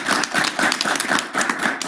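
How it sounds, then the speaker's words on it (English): Applause rings out at a school board meeting, a dense, steady patter of many hands clapping at close range that holds unbroken for a couple of seconds. "let's give you a round of applause"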